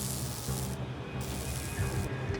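Pepper spray hissing out at an officer during a Coast Guard training drill, a steady rushing spray across the whole short burst, loud and close with no talk.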